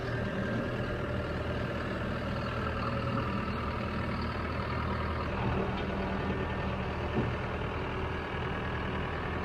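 A farm tractor on a corn farm drives up onto a trailer, its engine a steady, dense, continuous rumble close by with no talk.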